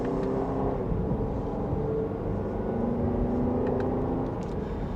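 Jeep Grand Cherokee Summit V6 SUV accelerating in sport mode, second gear, a steady loud interior engine drone and road rumble with a rising tone, no voices.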